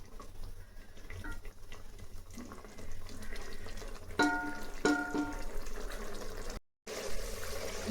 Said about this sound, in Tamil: ரெண்டு டம்ளர் தண்ணி ஊற்றிட்டோம்